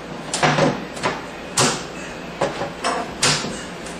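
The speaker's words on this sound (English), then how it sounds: "Now I can put the cabinet doors back." Kitchen sink cabinet doors are refitted onto quick-release hinges, giving several sharp wooden knocks and clacks at uneven intervals, close and moderately loud, with no talk.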